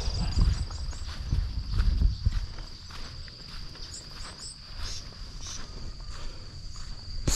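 Crickets chirp steadily in rural bush, a high pulsing trill running throughout, while footsteps crunch along nearby in the first seconds.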